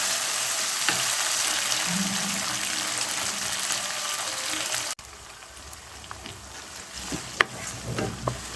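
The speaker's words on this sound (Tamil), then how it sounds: "தக்காளி, பூண்டு இதை சேர்த்து நல்லா வதக்கிக்கோங்க." Tomatoes and garlic sautéing in a pan for a potato and brinjal curry, a steady loud sizzle that drops in level midway, with occasional stirring clicks and scrapes near the end.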